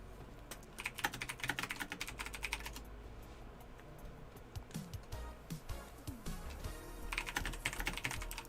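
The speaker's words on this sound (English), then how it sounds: "You can hear my typewriter going off in the background." Rapid clatter of keyboard typing in bursts, dense at the start and again near the end, sparser in between, with no talk over it.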